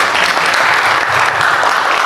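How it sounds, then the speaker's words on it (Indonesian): An audience applauds Saka SAR at an installation ceremony, dense steady clapping from many hands, loud and sustained across the whole moment. "Tepuk tangan untuk Saka SAR."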